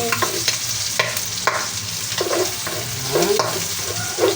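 Garlic sautés in hot oil for a coconut-milk vegetable dish with string beans and water spinach, a continuous close sizzle broken by periodic scraping strokes of a spatula.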